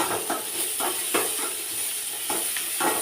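Curry leaves and onions fry in hot oil for macaroni, a dense steady sizzle broken by regular scraping strokes of a spatula against the pan, close and fairly loud, no voices.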